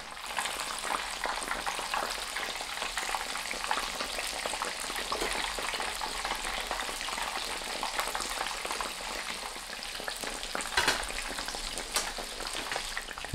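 Tonkatsu pork cutlet deep frying in hot oil, a dense, even bubbling crackle held steadily at moderate level with faint scattered pops, heard alone.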